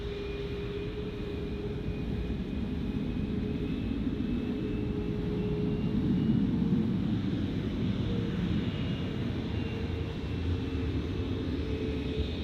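A Bonza airliner with Canadian registration at Gold Coast Airport produces a steady, distant engine roar with a faint whining tone running underneath, holding constant and unbroken throughout.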